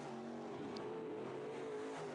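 Sport mod race cars lap a dirt oval during a heat race, engines droning steadily at a distance as the pack motors around the track late in the race.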